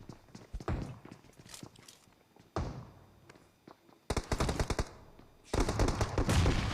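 Gunfire in the PUBG Mobile video game on a Redmi Note 8 Pro phone: loud bursts of rapid automatic shots in several volleys, with dense rattling trains toward the end.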